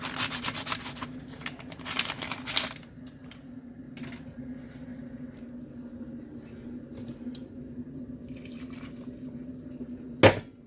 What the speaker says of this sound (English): I'm gonna try sanitizing it all with hot water.